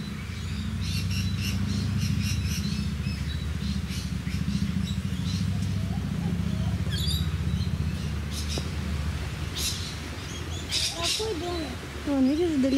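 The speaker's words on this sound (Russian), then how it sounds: "И какие-то птички интересные." Birds chirping near palm trees at Airlie Beach, Queensland, Australia, with scattered bright tweets and calls over a low rumble of passing traffic, while people talk nearby.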